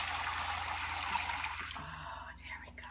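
Bathwater draining out of a sink after a baby's bath, a steady broadband rush that thins and gurgles away toward the end, with soft talk near the end.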